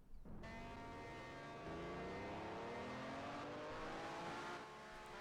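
Sim racing car doing donuts in a video game: a steady, loud engine drone with rising and falling revs held for several seconds and no talking.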